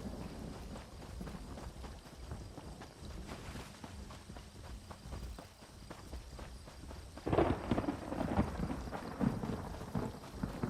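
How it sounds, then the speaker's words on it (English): Thunder rumbles low and continuous in a video game, swelling into a louder rolling crash near the end, mixed with footstep-like thuds. "That thunder."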